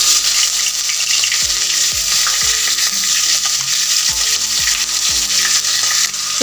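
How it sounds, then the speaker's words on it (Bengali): Whole cumin seeds fry in hot oil in a pan for a Bengali rohu fish curry, a steady loud sizzle and crackle with rhythmic scraping strokes of a spoon stirring throughout. "এখন এখানে আমি আস্ত জিরা ফোড়ন দিব।"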